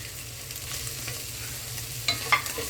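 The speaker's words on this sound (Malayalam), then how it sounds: "ഇതും നന്നായിട്ടൊന്ന് ഇളക്കുക." Egg frying in butter for chicken pulao is stirred in a pan, giving a soft, steady sizzle with a few brief scraping clinks near the end. The sound is faint and close.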